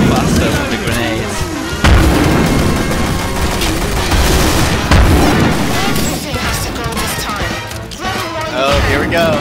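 Repeated flame grenade explosions in the Killing Floor shooter game, loud booming blasts and crackling fire bursts one after another in a dense, chaotic barrage with scattered impacts throughout.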